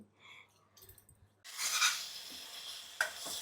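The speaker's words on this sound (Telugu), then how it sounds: "ఉల్లిపాయ పేస్ట్ అయితే వేగిపోయింది దోరగానే." Onion paste sizzles and fries in a pan for a fish curry, a steady hiss rising after a quiet start, with a spoon clinking against the pan partway through.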